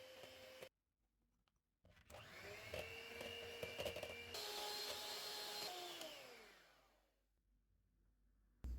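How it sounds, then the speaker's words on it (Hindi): An electric mixer whips cream with powdered sugar for tiramisu. It starts with a short whir, pauses, then spins up into a loud, steady high whine that holds for several seconds before winding down and fading out. "इसको थोड़ा थोड़ा क्रीम में डालेंगे और व्हिप करेंगे।"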